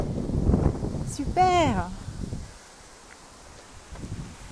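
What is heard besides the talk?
wind blowing outdoors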